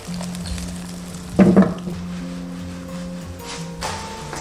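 Beaten egg hits hot cooking oil in a pan with a brief loud sizzle and crackle, then settles into a quieter frying hiss with low kitchen hum.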